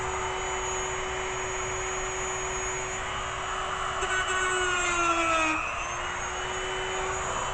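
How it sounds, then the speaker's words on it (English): A small Dremel rotary tool whines steadily while grinding corroded copper, brass or steel parts of a Midland CB radio. The high, even tone dips briefly in pitch midway as it bears down on the metal, then recovers. "I always love to have my little Dremel."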